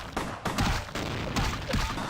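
Shotgun blasts in the video game Vampire: The Masquerade - Bloodlines, several loud booming shots in quick succession amid busy combat noise.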